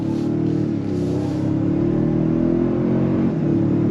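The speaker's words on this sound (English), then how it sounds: "On throttle, here we go." A 2025 Toyota Sequoia TRD Pro accelerating hard on throttle, its engine holding a steady, loud drone heard from the cabin with slight pitch shifts as it pulls, no talking.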